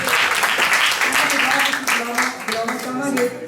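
An audience at a multilingual poetry gathering, a kavi darbar, claps in a lively burst. The applause runs under a host's voice and fades as the speech continues.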